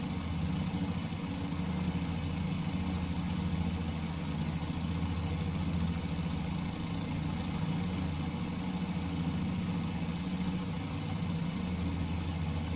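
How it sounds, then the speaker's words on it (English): Three 200 HP radial engines of a Fokker F.VII Tri-Motor idling on the ground in MSFS2020, a steady, close, low throbbing drone with even vibration and no talk. "you can even just leave the props running and just put them on idle"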